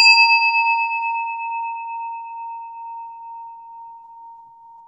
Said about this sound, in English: I'm going to ring a meditation bell to kind of bring us into our meditation.